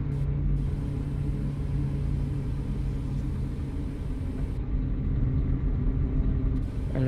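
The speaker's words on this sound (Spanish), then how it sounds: "El frenito de motor o de aire que usamos aquí es bien sutil el sonido." Engine rumble of a Marcopolo G7 1800 DD double-decker bus on a mountain route in Euro Truck Simulator, a steady low drone with a brief airy hiss near the start and end, loud and continuous.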